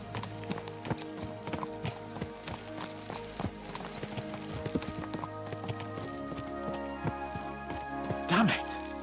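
Horses trot and gallop in the video game Kingdom Come: Deliverance II, a steady stream of clip-clop hoofbeats close by, with a whinny near the end and a game soundtrack underneath.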